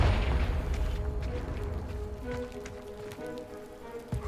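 A blasting spell bursts a blocking pile of debris in Hogwarts Legacy, a loud low rumbling explosion at the start that decays into scattered crumbling and trickling rubble.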